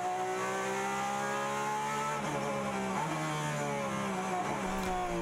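A Porsche 911 RSR race car lapping Daytona, its engine a loud, close onboard drone that falls and rises through a few gear changes.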